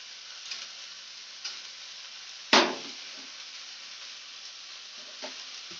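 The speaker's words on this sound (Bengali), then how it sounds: "কিছুটা কাজু কিশমিশ দিয়ে দেবো" Cashews and raisins fry in melted sugar for homemade fried rice, giving a steady close sizzle with one sharp clatter midway and a few softer ticks. No one speaks.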